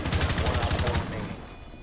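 Rapid gunfire in the tactical shooter Rainbow Six Siege, a loud burst of repeated shots that fades into a softer background rumble.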